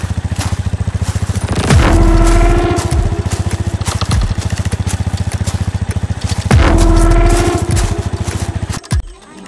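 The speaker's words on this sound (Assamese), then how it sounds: "ময়দানখনৰ নীৰৱতা ভাঙিলে পদক্ষেপৰ শব্দ আৰু বাইক চিনৰ গৰ্জন" Motorcycle engines rumble steadily at close range, twice revving up into a louder roar before settling back, with a scrape and thud near the end and no talk.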